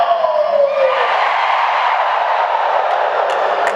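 A large convention crowd at a Disney fan event cheers in a loud, continuous roar that holds steady throughout, with no single voice standing out.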